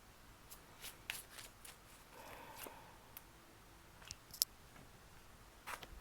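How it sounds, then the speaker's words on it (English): A deck of cards being shuffled by hand, heard as quiet, close riffling bursts and soft snaps scattered irregularly over several seconds in an otherwise hushed room, with no talking. "Y'all saw me shuffling"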